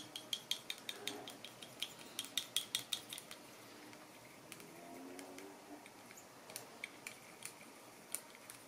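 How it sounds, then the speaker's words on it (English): A few drops of paint stirred for a 1/48 scale StuG.III model kit, producing quick light clinks and taps of a small tool against a container in irregular bursts, close and quiet with no voices. "Just a few drops. Give it a stir, stir, stir, stir."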